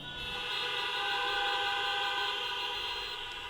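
Many car horns honk together from a stadium crowd at a finance talk in Allianz Parque, a loud sustained blaring chord that holds steady for several seconds with no speech.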